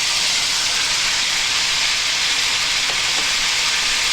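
Sliced onions sizzle in a hot wok, a loud, steady hiss of frying that holds throughout with a few faint stirring touches and no talking.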